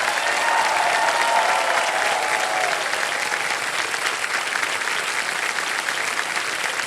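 Studio audience at a televised quiz show claps steadily and loudly for the full stretch, a dense sustained wash of applause with faint crowd murmur beneath.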